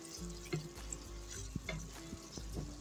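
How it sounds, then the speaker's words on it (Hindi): Watermelon rind curry stirred in a pan over a low flame, with soft scraping strokes and gentle sizzling recurring every half second or so, close and fairly quiet, no voices. "तो देखिए फ्रेंड, एक बार फिर चला देते हैं सब्जी को"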